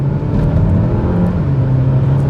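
A Renault Boreal Iconic 2026 with a 1.3 engine accelerates, a loud, steady, close engine drone with road and wind rush building smoothly inside the cabin.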